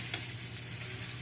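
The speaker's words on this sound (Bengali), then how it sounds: "গাজরগুলো ভেজে নিলাম" Carrots frying in a pan, a steady close sizzle with a light stirring scrape near the start.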